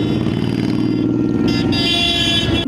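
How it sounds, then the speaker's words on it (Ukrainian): Motorcycles ride along a newly repaired road between Skhidnytsia and Pisochna, a steady close engine drone with a brief horn-like tone, loud throughout. "Першими на витривалість трасу перевірили півсотні байкерів з цілої країни."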